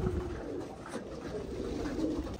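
Racing pigeons coo softly and repeatedly at a loft during a race, the low murmuring calls close against steady background noise.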